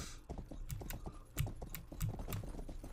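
Horse hooves clip-clop in the video game Rustler, a quick run of sharp, close knocks with an uneven galloping rhythm, fairly faint, over a soft background bed.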